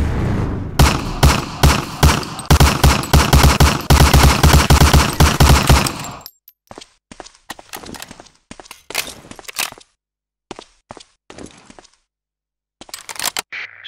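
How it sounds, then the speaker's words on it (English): Thompson submachine gun in Medal of Honor: Allied Assault firing loud rapid bursts for about six seconds, then scattered shorter shots and clicks trailing off with gaps of silence. "Shoot that target 20 times with the Thompson"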